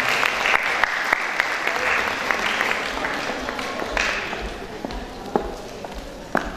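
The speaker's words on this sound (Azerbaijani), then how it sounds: "Alqışlarınızla." Audience applause fills a live concert hall at Baku Music Academy, steady dense clapping throughout with a few sharper individual claps standing out near the end.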